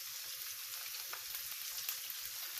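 Homemade meatballs frying crowded together in a large pan, a dense, steady crackling sizzle throughout with no talk.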